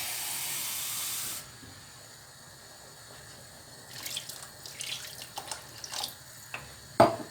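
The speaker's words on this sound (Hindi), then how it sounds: "थोड़ा सा और पानी डालेंगे क्योंकि थोड़ा शोरबे वाला सालन हमें चाहिए।" A pot of black chickpea curry gets more water poured in, with a hissing, steaming rush at first that dies down, then bubbling and a few clinks of a utensil close by.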